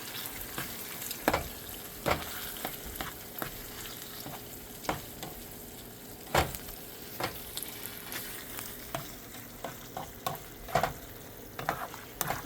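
Ingredients being stirred into meat frying in a pan, a low continuous sizzle with repeated spatula scrapes and taps at an uneven rhythm, fairly quiet and close.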